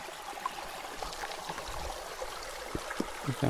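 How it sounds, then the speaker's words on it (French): A clear forest brook runs over rocks and small cascades in the Massif du Sud woodland, a soft, continuous burbling trickle at low level with scattered droplet splashes. "Oh, on dirait qu'il y a des cascades là"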